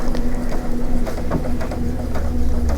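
A sewing machine stitches a quarter-inch seam through a quilt with a continuous, close, rhythmic mechanical whir and a steady needle patter.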